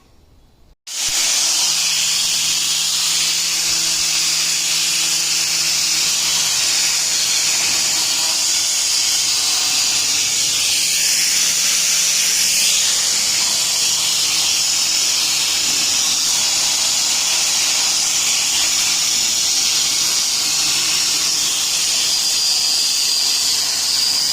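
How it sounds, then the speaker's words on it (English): A wire wheel spins on an angle grinder, stripping a front axle's tubes. A loud, steady, hissing whir kicks in after a brief quiet start and runs unbroken, with no voices. "wire wheels or wire fitting adapters for my angle grinder"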